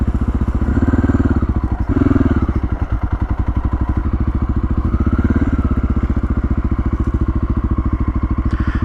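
A Honda XR650L adventure motorcycle thumps along on a ride, its single-cylinder engine pulsing in a loud, close, continuous rhythm with slight rises and dips in revs and faint wind rush.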